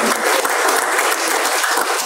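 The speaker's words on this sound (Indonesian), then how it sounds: "Tepuk tangan yang baik." Steady, dense applause from a church sermon audience, loud and continuous for the whole stretch with no talking over it.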